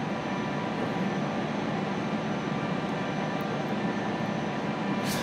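A small propeller plane on approach to Aspen airport drones steadily from inside the cabin, a constant broadband engine roar with no break and no talk.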